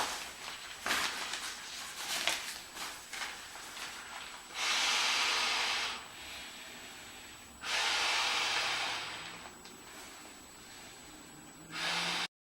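Breaths blown into the valve of a NeoAir Xlite inflatable sleeping pad with a honeycomb pattern, three long, loud, hissing exhalations with short pauses and quieter breathing between them.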